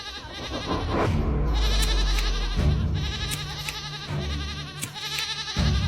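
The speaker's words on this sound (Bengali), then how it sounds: "এত রাতে ছাগলের চিৎকার কেন?" A goat bleats loudly at night in a village setting, with several drawn-out, wavering cries in succession, close and prominent over a dense background.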